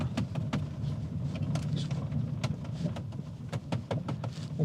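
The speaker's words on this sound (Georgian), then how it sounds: "უფრო უკანა მარცხენა მხრიდან მოდის რაღაცა ჭრიალის ხმა." Plastic trim creaking and ticking inside the cabin of a Mercedes-Maybach GLS 600 SUV driven over a rough road, scattered sharp clicks over a low rumbling road and engine drone.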